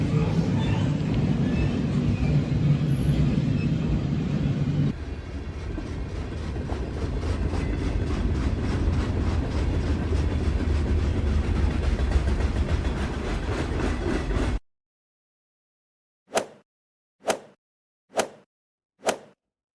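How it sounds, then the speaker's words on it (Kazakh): Cartoon car carrier train rolling along with a steady rumbling, clattering run that cuts off abruptly, followed by four short, sharp hits in a row. "Бұл автотасығыш пойызы."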